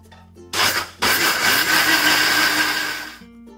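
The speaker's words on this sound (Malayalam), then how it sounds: "മിക്സിയുടെ ജാറിലേക്ക് നമുക്ക് ഈ അരി ഇട്ട് കൊടുക്കാം 2-3 ബാച്ചായിട്ട് നമുക്കിത് അരച്ചെടുക്കണേ" Mixer grinder running with soaked rice and water in its jar, a loud steady whirring grind that starts abruptly, briefly cuts out, then resumes and runs for a few seconds before stopping.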